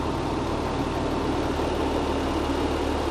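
A rally truck's engine idles at the start of a desert race, a steady low drone with broadband noise held evenly throughout, no voices.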